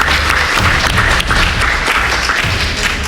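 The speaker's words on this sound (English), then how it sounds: "can we get a round of applause for Dr. McClancy" A conference audience applauds loudly and continuously, many hands clapping in a dense, steady wash of sound with no pause.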